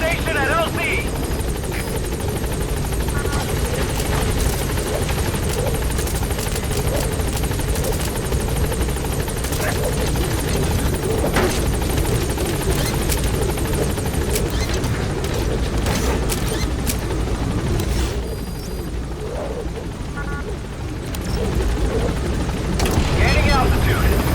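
The Pequod helicopter in Metal Gear Solid V roars on with dense, continuous rotor thump and whine, loud and close throughout, briefly easing near the end while radio-style voices speak over it.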